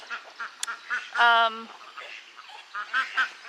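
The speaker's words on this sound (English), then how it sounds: "one of our little young duck, Lucky, who's actually running out of the coop now" A young duck quacks once, loud and close, in a short nasal burst inside a backyard coop, while people talk around it and other faint poultry sounds come and go.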